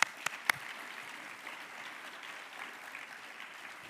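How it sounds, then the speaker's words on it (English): Conference attendees applaud after a speaker, a few sharp claps up front followed by a soft, even patter of clapping from the room. "Let's give Secretary Johnson another round of applause."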